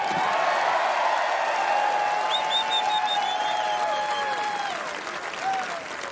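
Large outdoor crowd at the 2021 NHL Expansion Draft, a steady loud roar of voices and noise throughout, tapering slightly toward the end.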